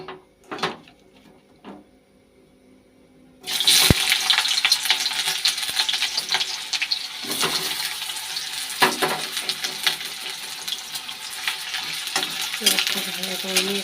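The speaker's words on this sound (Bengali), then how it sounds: "এখানে এখন পেঁয়াজটা দিয়ে দেব" Onions are dropped into a hot kadai and start sizzling loudly after a quiet start with a few clinks, then fry steadily with occasional stirring scrapes, close by.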